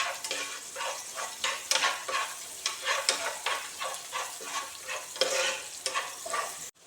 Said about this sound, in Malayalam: ഉള്ളിയെല്ലാം മൂത്ത് വരുവോളം നല്ലവണ്ണം ഇളക്കി കൊടുക്കുക.